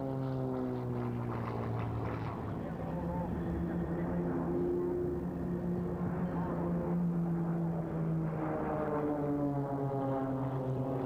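A small aerobatic propeller aircraft tumbles through a Lomcevak at the RIAT air show at RAF Fairford, its engine droning and wavering in pitch at a distance, steady and fairly faint throughout.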